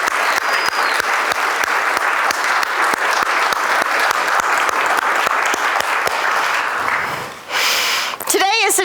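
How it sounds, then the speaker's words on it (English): A church congregation applauding its board leaders, vigorous sustained clapping that fades out near the end, followed by a brief bit of speech or breath at the microphone. "Oh, and let's give our board leaders a round of applause."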